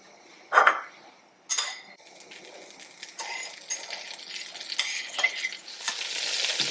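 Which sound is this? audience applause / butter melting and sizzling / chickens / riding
butter melting and sizzling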